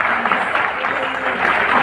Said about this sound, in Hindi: एक बार जोरदार तालियां मास्टर सेरेमनी के लिए।